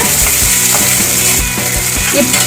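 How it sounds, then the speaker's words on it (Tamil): Onions and green chillies sautéing in hot oil for a crab masala, giving a steady, loud sizzle with faint clinks of stirring throughout. "ஆயில் கொதிச்சதும் நம்ம நறுக்கி வச்சிருக்க வெங்காயம், பச்சை மிளகாய், மல்லித்தலை பாதி இப்போ போட்டுக்கலாம்"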